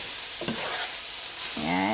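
Cabbage being stir-fried for pancit, a soft sizzle with stirring scrapes in a pan, steady and close, with a brighter sizzle surge near the end.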